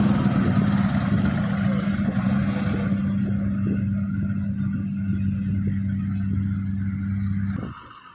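A loaded twelve-wheel Eicher truck from Ahilyanagar, Maharashtra, carrying an iron load, labours up a ghat road with a loud, steady low engine drone, close by, before the sound drops away at the end.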